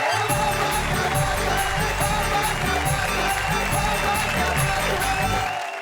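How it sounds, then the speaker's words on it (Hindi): Loud, dense applause and cheering from a live audience at a Hindi poetry stage show, filling the whole stretch steadily without a break. "आइए जरा जोरदार तालियां बजाइए।"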